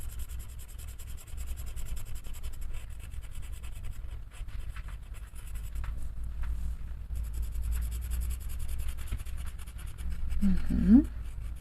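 Coloured pencils scratch softly and continuously across slightly rough paper, with a faint, steady rubbing texture close by and a brief squeak near the end.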